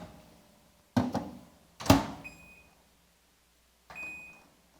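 A microwave oven set to medium power gives a few separate thumps or clicks and then short electronic beeps, each a brief steady tone. Between them the room is quiet.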